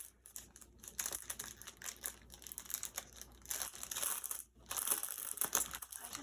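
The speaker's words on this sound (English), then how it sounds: "Sorry for the crinkling." Packaging of a Hobonichi 2025 planner crinkles and crackles while being handled during an unboxing. The handling is close and fairly quiet, with irregular bursts and brief pauses.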